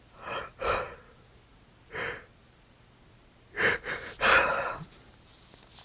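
A woman yawns repeatedly, with several breathy, drawn-out yawns and gasping breaths in short bursts, close to the microphone and with no talking.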